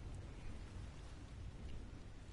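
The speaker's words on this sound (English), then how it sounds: "But there's rain going through the lava." Steady broadband hiss of rain falling in Ark: Survival Evolved, pouring near a pool of lava, continuous and even with no breaks, no voices over it.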